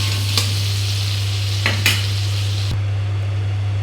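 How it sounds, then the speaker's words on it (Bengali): Potatoes frying in a pan with turmeric and salt, a continuous close sizzle broken by a few short scraping stirs, with a steady low hum underneath. "এখন আলুগুলি ভেজে দিচ্ছি হলুদ লবণ দিয়ে।"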